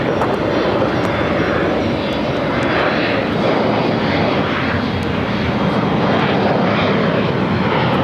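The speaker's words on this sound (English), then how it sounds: "Throwing another heavy into the mix for takeoffs here at DHL, ABX Air, flight 105, heading to Phoenix, Arizona, converted 767" A DHL ABX Air converted Boeing 767-300ER taking off at LAX in wet, challenging weather, a loud, sustained broadband engine roar that stays steady and powerful throughout.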